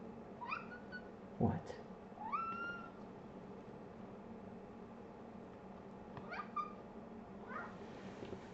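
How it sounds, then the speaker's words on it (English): A pet cat meows several times indoors, short rising calls spaced a few seconds apart, fairly close and soft, with a brief voice and a thump in between. "Yes, Mario, that is a kitty"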